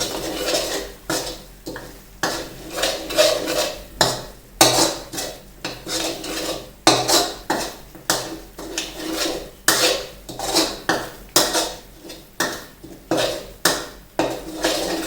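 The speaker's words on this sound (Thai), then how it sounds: "ใส่ลงไปเลยนะครับ แล้วคนนะ เขาให้เข้ากันนะครับ" Metal spoon stirring coconut cream into red pork sauce in a cooking pot, a steady run of close scraping and clinking strokes against the pot with short pauses between bursts.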